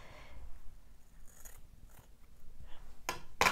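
A few quiet, sharp snips of scissors cutting hair, irregular and close, separated by short pauses in a soft room.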